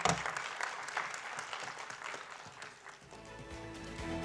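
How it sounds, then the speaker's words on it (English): A conference audience claps in sustained applause, fairly close, tapering slightly toward the end as some music-like tones emerge. "Priscilla, can you give her another round of applause?"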